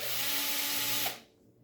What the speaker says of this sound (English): I just took this drill battery off the charger. And it sounds pretty wimpy